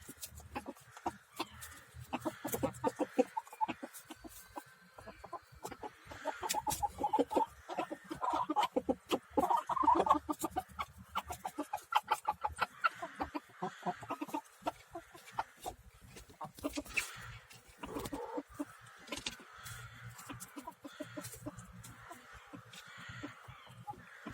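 Chickens, with geese among them in a small coop, cluck in irregular bursts while being fed tree leaves, a busy, close chorus of short calls rising and falling over the stretch.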